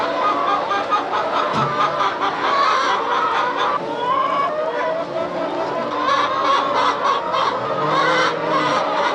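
Chickens on a farm during egg collecting in cold weather, a dense flock clucking and squawking loudly and continuously nearby without talk.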